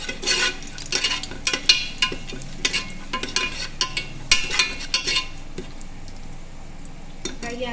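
A bay leaf fries in a pan for sorekai palav, a soft sizzle under repeated scraping and clinking of a spoon against the pan, close and steady.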